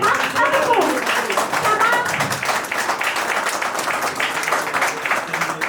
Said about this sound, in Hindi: उतने ही खिले दिल से तालियां भी बजाइए।